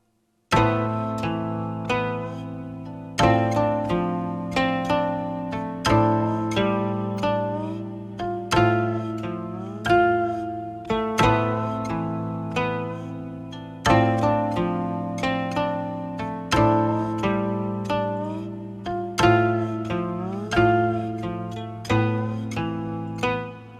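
Bell-like plucked guqin harmonics from the Ample China Guqin sample library ring out one after another in a slow, spacious melody, each tone decaying gently before the next is struck.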